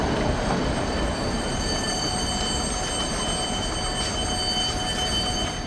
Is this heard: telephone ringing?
no